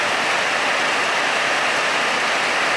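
Steady rain falls across a town during a downpour, a dense, continuous broadband hiss with no breaks, fairly loud and close, and no voices over it.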